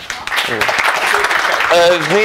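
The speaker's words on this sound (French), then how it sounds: "Une bonne main d'applaudissement, s'il vous plaît." Audience applause at a live show breaks out as a broad, steady wash, with voices calling and talking loudly over it throughout.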